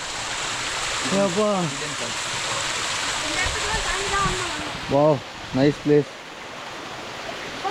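A waterfall at Kanthalloor, Munnar, pours with a steady, loud rush of water, while people talk over it in short bursts.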